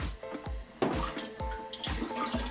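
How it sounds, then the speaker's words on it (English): Water is poured from a small container onto the grassy surface of a groundwater model, with splashy pours and sharp knocks recurring in a loose rhythm, close and moderately loud. "Usually easier with a small container to pour water onto the grassy surface."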